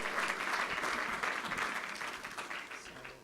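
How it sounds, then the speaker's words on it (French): An audience applauds an award winner at the Prix Jeune Espoir 2015 ceremony of the Norbert Ségard Foundation, a dense, steady wash of many hands clapping that holds throughout and fades slightly at the end. "Alexandre, félicitations encore à vous et des applaudissements pour vous."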